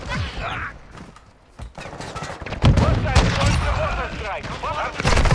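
Gunfire from a first-person shooter video game, bursts of shots and rapid fusillades that grow louder and denser in the second half, mixed with game sound effects and occasional voice chatter.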